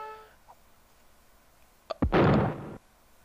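Keeps being bombarded in Age of Empires 2 set off a single heavy explosion, a sharp crack followed by a loud, sustained rumbling burst lasting under a second, preceded by a few faint pops.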